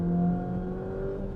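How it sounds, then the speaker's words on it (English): A Jeep Compass Trailhawk four-cylinder engine under hard acceleration, a steady droning engine note with a rising tonal whine heard from inside the cabin, moderately loud and brief, no talk. "the 4-cylinder can be a little bit noisy"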